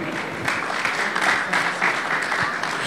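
An audience at the CFIA Maroc 2016 packaging awards jury presentation gives a steady round of applause, a dense patter of many clapping hands in a hall, lasting throughout.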